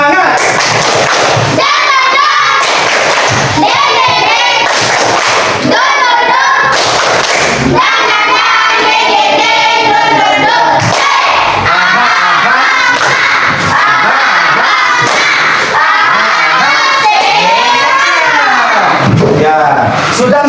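Schoolchildren in a classroom do the rhythmic tepuk semangat clapping chant, loud group claps in patterned bursts mixed with shouted chanting voices close by.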